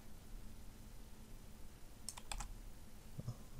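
Quick keyboard and mouse clicks from PC play of The Witcher 3, a short cluster of crisp taps near the microphone over a soft, steady hiss, with no talk.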